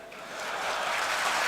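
Audience applause at a Ramadan iftar gathering at Gontor, a dense wash of many hands clapping that swells slightly and holds steady, close and loud.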